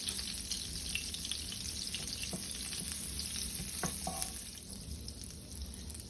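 Butter sizzling in a pan with olive oil, a steady loud crackle with no gaps, broken by a few sharper pops and splatters.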